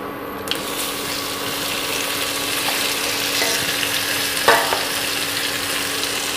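Amla and spices being stirred in a pan, with quiet scrapes and a faint sizzle over a steady low background hum and one brief clatter near the end.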